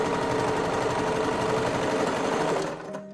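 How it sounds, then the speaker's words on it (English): A sewing machine runs in a steady, continuous whir as it stitches a zipper, loud and close, then slows and stops near the end. "I'm gonna sew it a little bit more, and then I'm gonna turn it to tacking"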